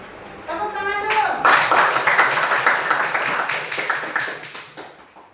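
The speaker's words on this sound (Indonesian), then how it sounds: "Tepuk tangan dulu." Applause in a classroom: a group claps together in a dense, sustained patter that starts after a brief voice and slowly thins out toward the end.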